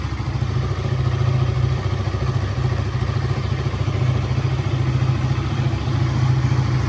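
A KTM 200 motorcycle engine idles steadily nearby after a rebuild, a loud, even low thrumming with a slight rattling pulse and no voices.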